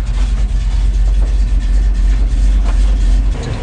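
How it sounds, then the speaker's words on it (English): A Ural 375D truck engine idles steadily with a deep, constant low rumble, close and loud throughout, with no talking over it. "Oh, the engine's on!"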